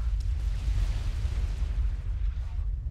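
Heavy booming explosions from bombs in the strategy game Forged Alliance rumble continuously, a dense low roar with overlapping blasts and no clear gaps, loud and close throughout.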